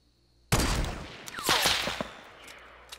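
Gunfire in Fortnite, a sudden loud burst of shots followed by several sharp cracks and echoing reports that trail off over a few seconds, with no talking.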